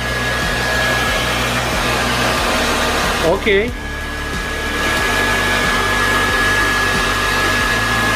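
A Philips HP8230 ThermoProtect 2100W hair dryer runs at maximum speed with a loud, steady roaring whoosh close by and a high whine, briefly dipping midway as someone speaks a word over it.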